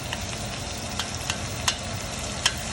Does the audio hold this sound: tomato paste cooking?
yes